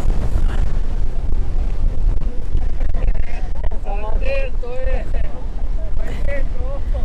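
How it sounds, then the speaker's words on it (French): Strong wind gusts roar steadily across open water, buffeting the microphone with constant low rumbling noise while people talk over it in the background. "Non, mais regardez-moi ce vent."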